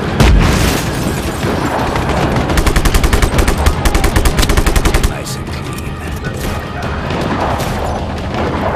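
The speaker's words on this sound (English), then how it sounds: "Bring out the machine gun. Understood. Throw a grenade!" Rapid machine gun bursts rattle alongside heavy grenade explosions in Just Cause 3, a loud, dense barrage of crackling shots and booms that keeps going, then eases into a lower rumble.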